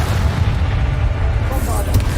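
Confringo fire spell blasts in the Hogwarts Legacy video game give a dense, rumbling boom that sustains for about two seconds under an ongoing layer of combat noise.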